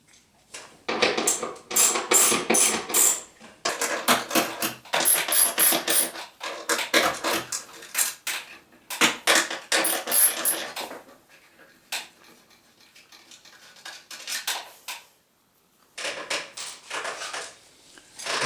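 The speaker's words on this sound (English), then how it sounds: "So these are bolts that are bolted to the seat from underneath, so I'm just going to take these off." Bolts are taken off from underneath a seat, giving bursts of metallic clinks, scrapes and rattling at close range, with quiet pauses between, and no talking.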